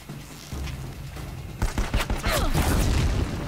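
Bursts of machine gun fire and booming shots in the video game Horizon Zero Dawn, starting faintly and then erupting loudly after a moment into a dense, continuous battle fusillade.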